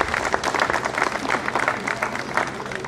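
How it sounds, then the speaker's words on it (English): Audience applause at an outdoor street co-naming ceremony honoring Dr. Lamuel Stanislaus, steady dense clapping from a crowd sustained throughout at moderate volume, with no voices breaking through. "Let's give them a round of applause."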